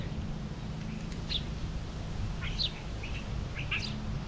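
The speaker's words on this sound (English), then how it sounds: "Listen to the sounds of the birds." Several short chirps and tweets from wild birds at a backyard feeder sound intermittently over a constant low rumble of background noise, faint and somewhat distant.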